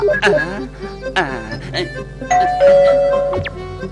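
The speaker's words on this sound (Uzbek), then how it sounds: "Qo'ng'iroqni bosdim-ku mana" A cartoon doorbell rings with a series of bright, loud electronic chimes, several tones sounding in succession with a sustained final ding.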